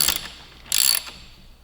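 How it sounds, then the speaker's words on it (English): A ratchet loosening a Loctite-secured footrest bolt on a 2018 Suzuki GSX-R1000 makes two short bursts of rapid, close clicking, the second louder and longer. "fair amount of Loctite, so we're going to use a ratchet, make our lives a little easier"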